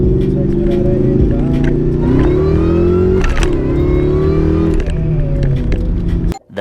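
A Cobra car's engine revs up and holds at a steady roar through a louder exhaust, with rising and falling pitch and a few clicks before cutting off abruptly at the end.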